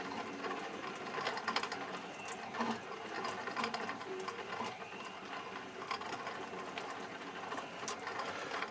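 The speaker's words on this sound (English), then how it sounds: "And now we have a gearbox that runs the way it's supposed to." A freshly rebuilt sand muller gearbox runs steadily, giving a continuous fine mechanical whirr with gear clatter and ratcheting ticks at an even level, fairly close and with no talk over it.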